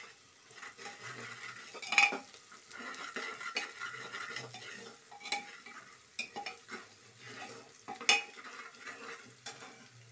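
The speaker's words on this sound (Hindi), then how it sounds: "प्याज को हल्का सा ब्राउन होने देंगे, थोड़ा सॉल्ट ऐड कर देती हूँ मैं," Onions fry and brown in a pan with a little salt for pulao, giving a faint, continuous sizzle with occasional scraping stirs of a utensil against the pan.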